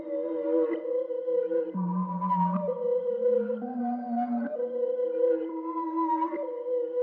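A reversed kalimba sample with a softened attack swells into each note, producing smooth, sustained tones that shift pitch in a slow looping pattern as a beat intro.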